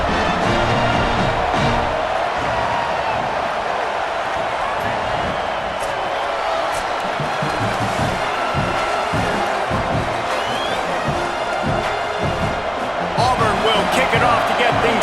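A large stadium crowd in a college football video game keeps up a dense, continuous roar of cheering, with a brief louder swell near the end.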